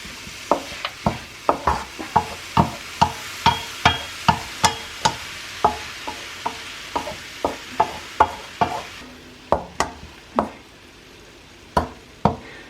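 A spoon stirs grated carrots in a pan for carrot halwa, scraping in a steady rhythm of roughly two strokes per second. The strokes are close and crisp over a faint background hiss, with a short pause near the end.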